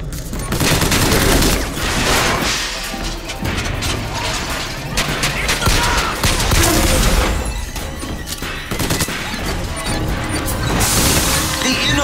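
Sustained gunfire volley in the BioShock Infinite video game, dense and loud with crashing impacts and rapid overlapping shots over several seconds.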